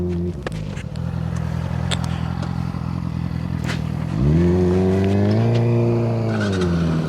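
A Yamaha R6 motorcycle revs on a city street, rising into a loud, close engine roar with sweeping pitch after an idling stretch, plus brief clattering and scraping sounds and no talk.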